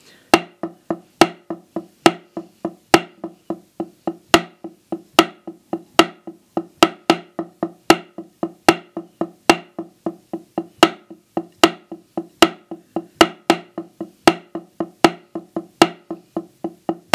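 A drummer repeats a triplet warm-up sticking pattern on a practice surface, with crisp, evenly spaced strokes in a steady loop and sharper accented hits that shift position within the pattern, played alone without talking.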